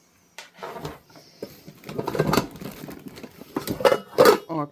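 Metal pots from a Stone 22 camping cookware set clink and rattle together as they are handled and packed, with irregular close clattering and scraping throughout.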